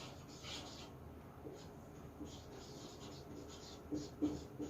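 Quiet writing on a board during a lecture on situational language teaching, with soft scratchy strokes coming in short bursts at low level and a few clicks near the end.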